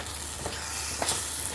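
Lentils tipped into a pan of drumstick vegetable, a steady close sizzle and fry with a couple of soft stirring scrapes and rustles as the mixture settles.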